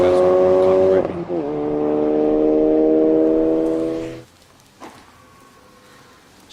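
A Ford Focus RS engine revs loudly and steadily for about four seconds with a brief dip near one second, then cuts to a quiet idle with faint sounds.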